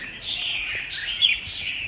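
A wild-caught songbird, a trapped bird kept in a cage for fighting or song contests, chirps steadily with sharp tweets over a continuous high call. The bird is close and fairly loud, with no talking.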